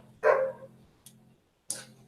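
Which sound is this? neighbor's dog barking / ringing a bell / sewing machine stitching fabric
neighbor's dog barking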